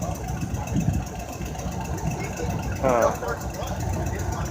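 A 1926 Caterpillar 60 tractor engine running with a rough, chugging idle close by, rumbling steadily throughout, at a steam and gas engine show.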